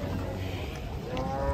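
An agitated sacrificial cow, just unloaded from a truck, lets out a low, drawn-out bellow over steady background noise, with no talking.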